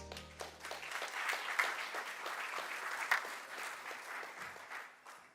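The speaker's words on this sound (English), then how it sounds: "And oh, that subdued applause afterwards." Subdued applause from a crowd at the Square Enix E3 2015 conference, a soft, steady patter of clapping that swells slightly and then fades away.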